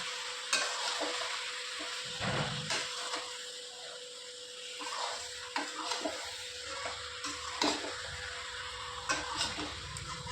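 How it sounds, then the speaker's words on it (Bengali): Chicken sautéing with onion-garlic paste in a pan, a steady close sizzle broken by repeated scraping stir strokes of a spatula at an irregular pace, with no talking. "এই পেঁয়াজ আর রসুন বাটাটা দিয়ে একটু ভালো করে কষাবো"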